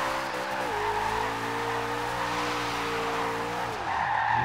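A car drifting in the racing game Forza Horizon 2, its supercharged V8 holding a steady, loud drone while the tires squeal through a long slide, the engine pitch dropping and rising again near the end.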